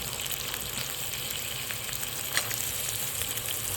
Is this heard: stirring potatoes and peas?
yes